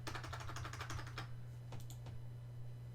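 Quick bursts of keystrokes on a computer keyboard, a fast run of clicks followed by a few slower scattered taps, faint and close over a low electrical hum.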